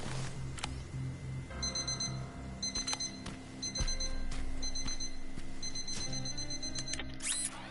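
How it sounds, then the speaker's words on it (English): Repeated electronic beeping alarm chirps in short regular bursts over a low droning hum, from a sound decoy device going off in the video game Terminator: Resistance. "That sound decoy ought to give me a moment."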